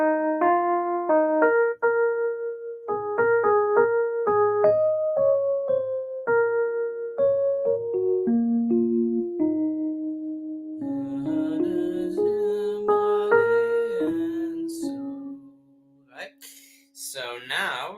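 Single-line melody of a ballad played live without chords, a clear sequence of sustained, tuneful notes that moves at a slow ballad pace, close and alone before fading out at the end.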